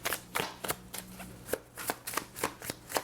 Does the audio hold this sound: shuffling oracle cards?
yes